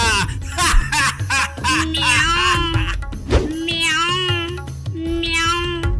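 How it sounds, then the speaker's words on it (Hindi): A cat meows repeatedly in drawn-out, wavering cries, close and fairly loud, with brief thumps between them. "अरे मूर्खा, वो तो बिल्ली है।"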